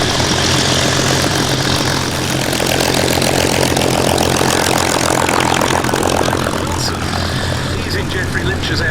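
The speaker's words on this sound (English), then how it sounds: "as Peter Kuipers brings his Beech D-17S into land" A Beech D-17S Staggerwing biplane's propeller engine drones steadily and loudly as it comes in to land at the Duxford airshow, a continuous near roar, with a commentator talking over it.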